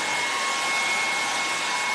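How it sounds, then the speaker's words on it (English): A hair dryer blows with a constant high-pitched whirring roar, loud and close, with no talking. "you probably can't hear me because I've got the hairdryer going."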